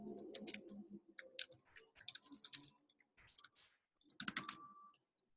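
Computer keyboard typing in short irregular bursts of light clicks with brief pauses, close but faint, with no talking.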